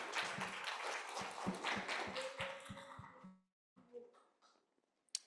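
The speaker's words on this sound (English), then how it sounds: "I just want to give a round of applause for both Rosie and Stacy." Audience at a self-determination conference claps in a round of applause, steady and fairly close for about three seconds, then breaks off to scattered faint claps and murmurs.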